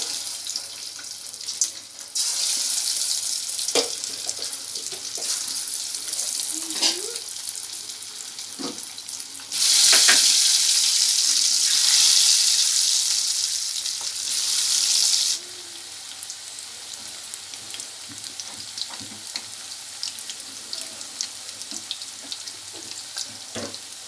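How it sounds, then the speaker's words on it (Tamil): Chicken pakoda pieces deep fry in hot oil with a steady bright sizzle that swells loudly for several seconds as more pieces go in, then settles back to a constant crackling hiss. "இப்போ ஒவ்வொரு சிக்கனாக போட்டு நம்ம பொரிச்சு எடுத்துக்கலாம்"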